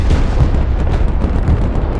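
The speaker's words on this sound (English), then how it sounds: "Commander, enemy mortar spotted." Mortar fire lands in the Broken Arrow strategy game as dense, continuous low rumbling blasts. It is loud and heavy, with no talk.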